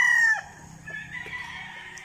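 Roosters at a gamefowl farm crow, with one loud close crow at the start, then fainter crows and clucks from other birds scattered in the background.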